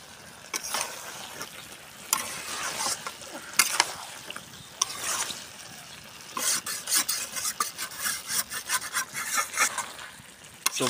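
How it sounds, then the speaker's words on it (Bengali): Taro and spices being stirred in a pot over a clay stove at dawn, with steady scraping and rubbing strokes and a light sizzle, close and fairly loud, no voices. "মশলা এবং কচুর সাথে ভালো করে মিক্স করে আবার কিছুক্ষণ ঢেকে থুবো"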